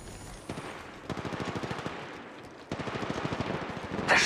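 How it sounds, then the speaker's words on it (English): Rapid automatic gunfire in Apex Legends Mobile rattles off in two sustained bursts of evenly spaced shots, loud and close, with a short pause between them. "They're shooting at me."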